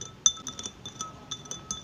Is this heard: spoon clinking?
yes